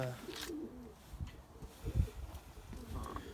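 Pigeons cooing in a breeding loft: soft low burbling coos repeat close by amid rustling and shuffling of birds, with no voices over them.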